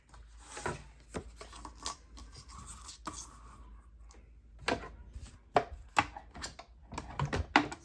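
Red paper being cut for a stamped craft project, with soft, close snips and crisp rustles in irregular bursts against an otherwise quiet room.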